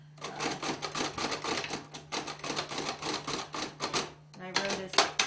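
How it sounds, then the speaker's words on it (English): Rapid, uneven clatter of keys being struck on a Brailler braille writing machine as paper is embossed, a steady run of mechanical thumps with a short pause, then a final burst with a carriage-like clunk. "Each of the buttons on the Brailler designates one of the 6 dots on the Braille."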